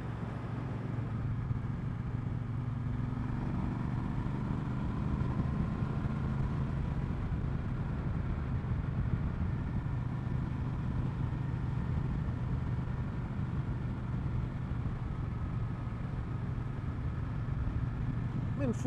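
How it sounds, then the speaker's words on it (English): A Triumph Bonneville Bobber motorcycle engine hums steadily at moderate revs while riding, a constant low drone with little change, and a rider talks over it. "I'm in fourth gear, 2800 RPMs. Maybe I should be in third gear, I don't know. Downshift here."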